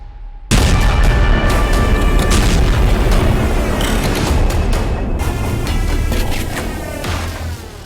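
Loud explosions from an airstrike in Doha, Qatar: a sudden heavy boom breaks from near quiet, followed by a sustained rumbling roar with crackling debris and repeated blasts, slowly fading toward the end.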